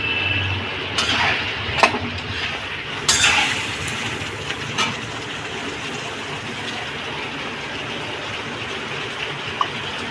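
Hot water poured into a Bengali cauliflower curry in a pan, a steady broadband gush running throughout at moderate level, with a few brief clinks of utensils near the start.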